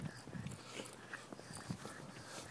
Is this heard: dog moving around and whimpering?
yes